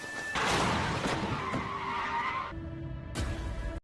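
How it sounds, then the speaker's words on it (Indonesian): A car skids with loud tire screech and engine roar at an intersection, then a brief impact-like burst near the end; no talking. "Tapi sial saat itu ada mobil yang menabraknya."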